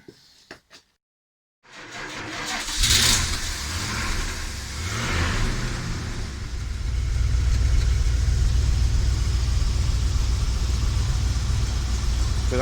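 A van's engine idles and then revs with a steady rumbling drone after its exhaust downpipe hole has been repaired, starting abruptly after a brief silence and continuing loud and even to the end.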